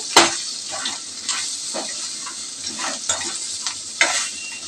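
Prawn legs fry in a pan with salt and chilli for a village-style prawn curry, a steady close sizzle broken by about five sharp spatula scrapes at irregular intervals, with no voices.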